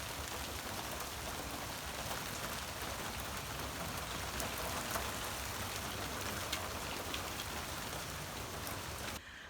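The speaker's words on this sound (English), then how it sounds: "My plants are so happy for the rain." Steady morning rain falls on a garden, a dense even hiss of drops on leaves and surfaces that holds constant and close throughout with no voices, cutting off abruptly at the very end.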